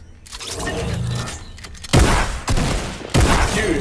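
Drum shotgun firing at a video game shooting range, three loud, sharp blasts spaced about a second apart, each with a brief ringing tail, over a rattling mechanical background.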